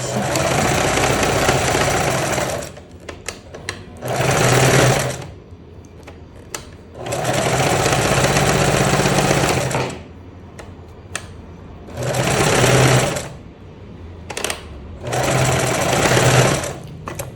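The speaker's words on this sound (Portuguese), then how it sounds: "O botão eu gosto de pregar na máquina, tá, gente?" Domestic sewing machine stitching buttons and buttonholes on a striped shirt, running in loud bursts of a few seconds each, separated by quiet pauses with small clicks and handling noises.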